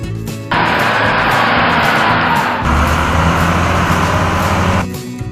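A scraper construction machine works close by, its heavy engine giving a loud, steady broadband roar that starts abruptly, holds for several seconds, then drops away.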